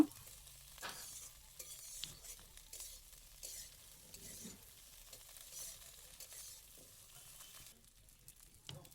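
Okra and onion frying in a pan give a faint, close crackle with intermittent scraping as they are stirred, low in level and steady across the stretch.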